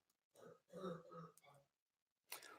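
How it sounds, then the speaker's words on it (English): A child coughs and clears his throat, heard faintly and close as a few rough, throaty bursts followed by a sharper hack near the end, with pauses of near silence between them. "Oh, my son is coughing."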